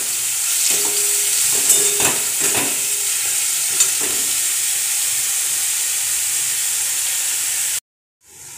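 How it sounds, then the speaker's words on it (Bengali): Onions fry in a pan until browned, a close, steady hiss and sizzle with intermittent spatula scrapes early on, continuing alone before cutting off abruptly near the end. "পেঁয়াজটা আমার ভাজা হয়ে গেছে লাল করে।"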